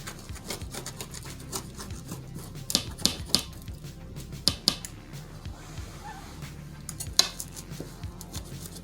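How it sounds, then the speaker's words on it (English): Homemade pizza being cut into eight slices: a busy run of close scraping, clicking and rattling as a blade or cutter works against the pan, with sharper knocks now and then and no voices. "I'm just gonna cut it into 8."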